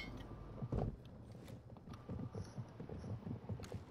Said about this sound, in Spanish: Corriendo en el techo.